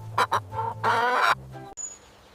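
A chicken clucks close by in a few short, loud bursts, then a longer squawk, with a faint high whistle at the end.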